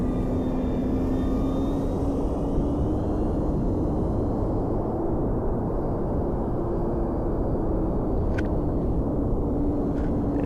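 An E-flite P-51 Mustang RC model airplane flying, a steady droning motor whine that holds evenly at a constant distance throughout, with no talking.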